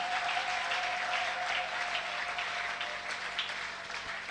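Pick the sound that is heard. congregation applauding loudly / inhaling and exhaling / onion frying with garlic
congregation applauding loudly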